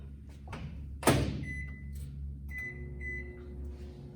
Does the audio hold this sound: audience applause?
no